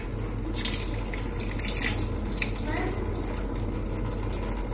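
Water runs steadily while LG water purifier filters are flushed, a continuous splashing gush close by, with faint voices underneath.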